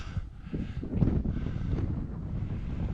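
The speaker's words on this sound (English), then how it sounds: "Not too windy, a bit breezy" Gusty wind buffeting outdoors on an open hillside near Catbells summit above Derwentwater, a continuous low rumble rising and falling with no voices.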